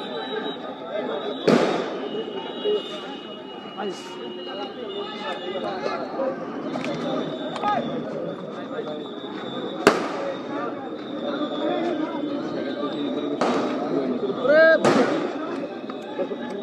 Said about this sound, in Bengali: গুলির শব্দ।